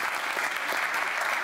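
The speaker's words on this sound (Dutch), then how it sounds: "dan kunt u ook een applaus in ontvangst nemen." Audience applause at a Dutch European politics event, dense and steady from start to finish, moderately loud with no break.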